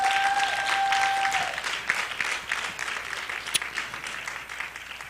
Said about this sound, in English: Can we give another round of applause for the Safe Return Project?